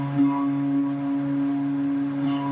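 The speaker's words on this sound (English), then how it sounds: "This is a note for each of those moon's orbits." A sonification of Saturn's moons sounds as several steady sustained tones stacked together, a soft electronic chord held evenly with little movement across the short stretch.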